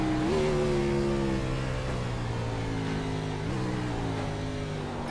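Onboard engine of the number 354 race car in iRacing at the Daytona Road Course, a loud, continuous, close-up roar whose pitch climbs and dips through gear changes.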